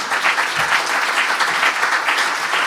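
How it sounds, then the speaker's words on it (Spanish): An audience at the official opening of a literary festival applauds for the translators, a steady, dense wash of clapping that fills the whole stretch without pause. "así que por favor un aplauso grande para todos los traductores."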